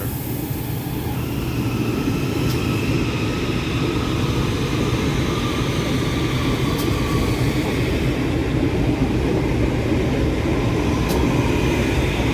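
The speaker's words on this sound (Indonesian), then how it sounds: "KRL CRRC Transit 8 berangkat stasiun Gambir." A loud, steady rumble of an electric train pulling away, with a whining motor tone and constant rolling noise throughout.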